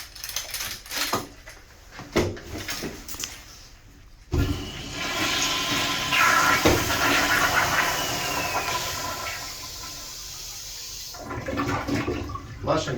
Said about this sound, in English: Flush it again for good measure.